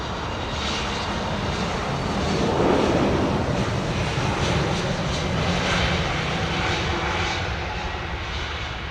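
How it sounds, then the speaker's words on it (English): An airliner with IAE engines at London Heathrow Airport, a loud continuous engine roar that swells and holds steadily throughout, close and broad, with no talk. "Listen to this thing, man. In comparison, this is the IAE engine. Listen to this."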